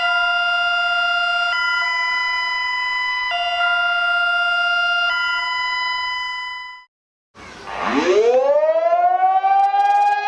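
An old Bulgarian emergency alert system siren blares loudly, first as a steady multi-tone chord stepping between pitches, then after a brief gap a wailing siren that rises sharply in pitch and holds, harsh and piercing.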